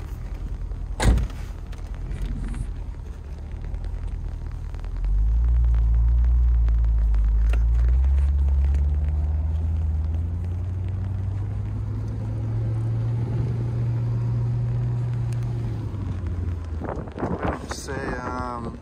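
A supercharged Jaguar XKR convertible with 39K miles: a low engine rumble swells as it pulls away and then holds a steady drone with wind noise, after a door thump near the start and a brief mechanical whir near the end.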